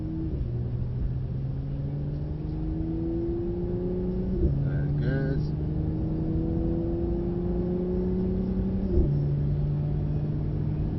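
A Mercedes car with a 3-litre V6 engine and four-wheel-drive system drives with a steady low engine drone that rises through gear changes twice. A voice speaks briefly over it.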